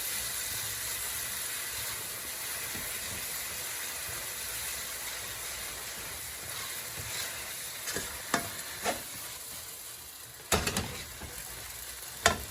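Chicken 65 sizzling and frying in a pan while being stirred, a steady hiss with a few sharper scraping clacks of the utensil toward the end, close and without talk.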